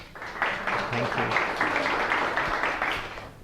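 An audience applauds a speaker at a physics conference, a steady wash of clapping from many hands that fills the room at moderate volume throughout.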